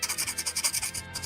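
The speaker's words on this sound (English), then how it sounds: "Scraping some stuff with this," Metal file scraping a plastic Gunpla model part of a 1/144 Real Grade Gundam GP01Fb kit, a quick regular back-and-forth rasp of about a dozen close strokes.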